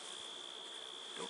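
Honey bees at a hive give off a faint, steady high-pitched buzz for a brief moment, close and unbroken, with no voices.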